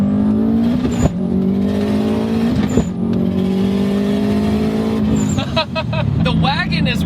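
A 1JZ-swapped BMW E30 wagon making about 500 hp revs and shifts repeatedly, its turbo wastegate throwing a rapid fluttering chatter on each lift, loud and close with a talking voice over the engine.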